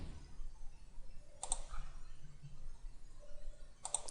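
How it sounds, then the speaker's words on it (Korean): Two brief, faint clicks of a computer mouse about two seconds apart against a quiet background while working in Autodesk Inventor 2015. "클릭, 클릭, 클릭, 클릭"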